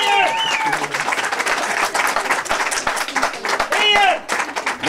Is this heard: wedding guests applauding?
yes